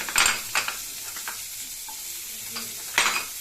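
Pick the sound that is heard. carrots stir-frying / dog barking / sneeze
carrots stir-frying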